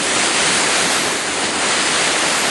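Floodwater surges under a bridge where the flow is restricted and backs up, producing a loud, continuous roar like heavy surf with no pauses and no voices.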